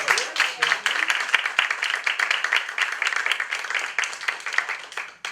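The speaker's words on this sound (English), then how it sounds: "give a round of applause for that." Lively clapping from an audience at a stage event, dense and uneven with strong individual claps, tapering off at the close.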